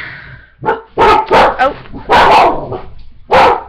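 Several loud, close dog barks in quick bursts, with short pauses between them and a final bark after a brief gap.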